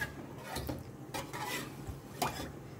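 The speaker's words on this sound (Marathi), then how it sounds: "सो बरें ताका मिक्स करून घेयात." A spoon stirs milk mixed into a metal pot, scraping and clinking against the sides in a few irregular strokes at close range, with no voices over it.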